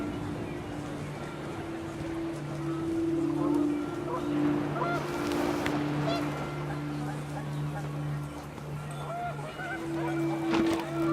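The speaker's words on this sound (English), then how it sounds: "panicked geese appeared and quickly went" Panicked geese honking in What Remains of Edith Finch, a loud cluster of calls bursting out midway over a steady low windy ambience and narration-free background.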